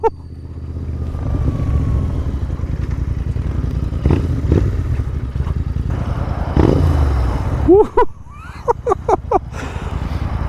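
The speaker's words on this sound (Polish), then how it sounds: "stokowy tłumik. To to bulgocze." A Royal Enfield motorcycle engine idles and burbles through its stock exhaust with a deep, uneven rumble, then blips the throttle in a few quick revs near the end.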